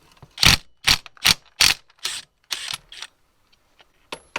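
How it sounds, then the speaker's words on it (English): An impact wrench removes a 24 mm alternator pulley nut on a Nissan Skyline R34. It gives a quick series of about six sharp, close rattling bursts, then trails off to a couple of faint taps. "I do have my impact, so I might as well use it."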